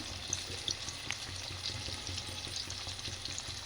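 Chicken frying in a pan while being stirred over a low flame, a steady close sizzle with soft scraping stir strokes and no talking.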